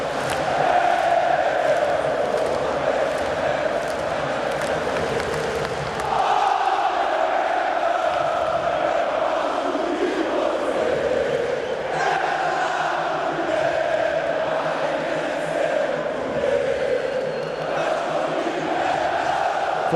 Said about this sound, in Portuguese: Canta o torcedor rubro-negro no Maracanã.